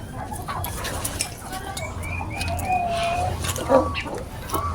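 Hens cluck and call at a hotel farm area in Tagaytay where a hen is laying eggs, moderately close, with a short louder squawk near the end over a low steady background hum.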